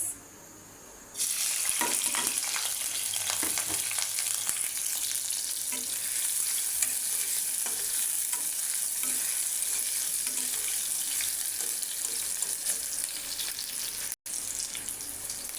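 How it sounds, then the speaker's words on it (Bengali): Onions hit hot oil in a pan after a brief quiet moment, then a loud, steady sizzle and crackle of frying carries on throughout with small pops and stirring. "এখন দিয়ে দিব তেল। এখন দিয়ে দিব পেঁয়াজ।"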